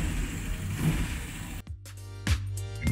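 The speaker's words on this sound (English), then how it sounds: "This is Nigel Sandell showcasing us a V8 and putting it through its paces." A V8 engine mounted on a test rig in a specialist builder's workshop revs loudly, then cuts to a lower steady running note with a sharp throttle blip near the end.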